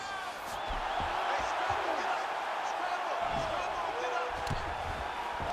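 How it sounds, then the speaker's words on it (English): Arena crowd in the EA Sports UFC video game roars with a broad, steady swell of cheering and whoops, sustained and loud throughout with faint thuds beneath. "big pop from the crowd as they get back to their feet"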